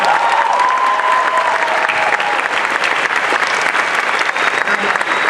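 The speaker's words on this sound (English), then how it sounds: "let's give him a big round of applause for Warwick Davis" An audience applauds Warwick Davis at a Star Wars Weekends 2013 stage event, dense sustained clapping filling the whole stretch, loud and close, with faint crowd voices mixed in.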